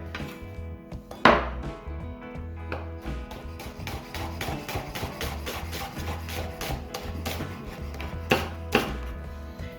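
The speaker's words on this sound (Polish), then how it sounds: "cebulkę kroimy, wkładamy do miseczki na razie" A knife cuts onion on a cutting board, with steady, fairly close chopping taps, a couple of louder knocks and a faint musical background.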